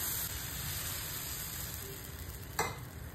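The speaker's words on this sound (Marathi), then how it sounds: "या तापलेल्या बिडाच्या तव्यावर आपण एक पेसराटू घालून घेऊ." Pesarattu batter sizzles steadily on a hot cast-iron griddle, a close, even frying hiss that runs throughout, with one brief sharp burst near the end.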